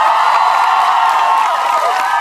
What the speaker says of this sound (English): Can we get just applause for you guys?